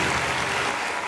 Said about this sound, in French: Est-ce qu'on peut applaudir pour cette beauté-là?